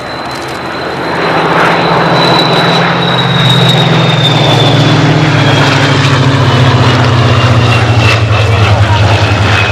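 A Curtiss H-75 propeller fighter drones loudly and continuously overhead at an air show, its engine tone sliding gradually lower as it passes, with no voices heard.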